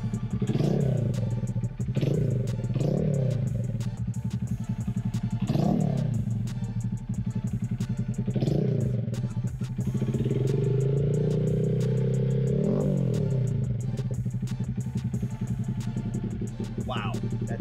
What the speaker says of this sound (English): let's give it a rev real quick